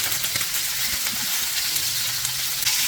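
Meat searing in a well-preheated frying pan, a continuous close, steady sizzle and crackle with no pauses and no voices.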